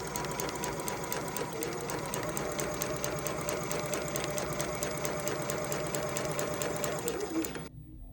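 A domestic sewing machine runs steadily, stitching a sleeve into a blouse bodice mock-up, a close, even mechanical whirr with rapid needle ticking that stops abruptly near the end.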